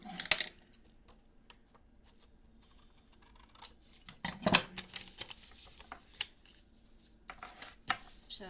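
Scissors snip through paper for a handmade envelope, scattered quiet close cuts and small rustles with a few sharper clips, no voices.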